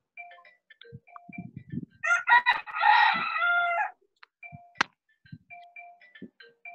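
A rooster crows once, loud and close, with a long drawn-out call. Sparse clicks and ticks surround it in a quiet room during an online real estate orientation session.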